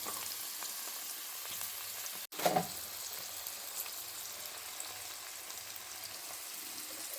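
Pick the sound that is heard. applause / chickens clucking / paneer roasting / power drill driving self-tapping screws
paneer roasting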